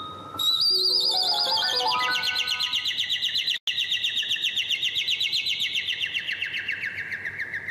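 Varied birdsong: a run of clear whistled notes stepping downward, then a long, rapid, even trill that carries on loud and close for several seconds with a brief break.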